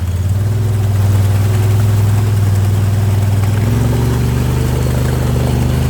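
Engine of a Can-Am Talon X side-by-side on 33-inch Aztex tires in hyper-wheel drive override, a loud, steady low rumble that holds close and constant as the machine crawls through a deep rut, with no voices.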